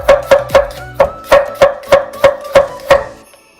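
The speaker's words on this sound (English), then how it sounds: "I'm going to quickly slice 1 whole onion" A knife slices through a whole onion onto a cutting board in about ten sharp, evenly spaced chops, loud and close, stopping cleanly near the end.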